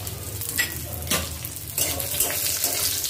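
Cashews, raisins and peanuts fry with cumin in hot oil and get stirred, a close continuous sizzle broken by a few scraping strokes of a spoon against the pan, no talking.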